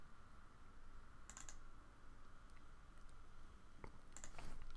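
A computer keyboard being typed on in quick bursts at close range, with brief pauses between runs of keystrokes over a steady faint background hum.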